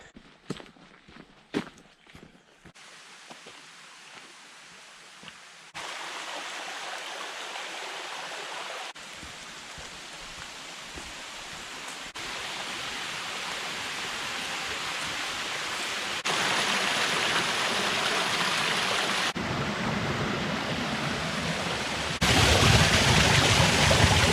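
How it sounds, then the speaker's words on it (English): Stream tumbling over a run of small waterfalls along a hiking trail in the 12 O'Clock Hills, County Clare, Ireland; a few footsteps at first, then a steady broadband rush of water that grows louder and nearer in stages. "This place is little waterfall after waterfall."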